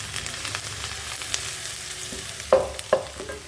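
Garlic and plantain being stirred and fried in a pan, a steady sizzle with a couple of sharp scraping stirs near the end, close and moderately loud with no talking.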